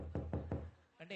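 Three firm knocks on a wooden door in quick, even succession, close by on the set of the TV variety show It's Showtime, followed by a brief bit of speech.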